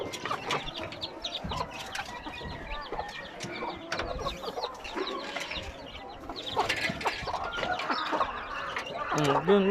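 Chickens cluck steadily in a busy, close chorus, with a few ducks calling among them and louder squawks near the end.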